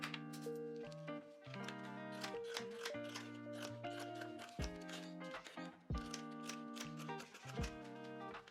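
Scissors cut fabric for a pair of summer pyjamas, giving quick crisp snips partly buried under steady background music.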